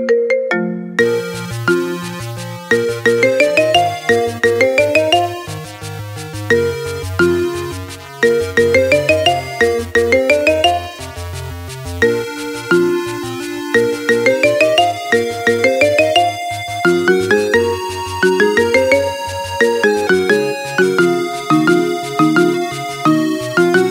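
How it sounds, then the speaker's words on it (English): A video game theme remixed as a marimba ringtone, bright mallet notes in a bouncy rhythmic melody over a steady low bass line, loud and continuous, purely instrumental. "Make your phone ring with the best ringtone of the year."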